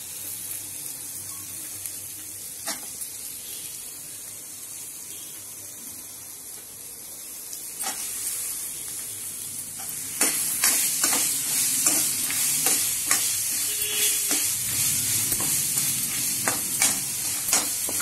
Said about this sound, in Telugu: ఇప్పుడు ఈ కొబ్బరి ముక్కలు ఉన్నాయి కదండి గ్యాస్ ఆఫ్ చేసాం మనం ఇప్పుడు కొబ్బరి ముక్కలు వేయాలండి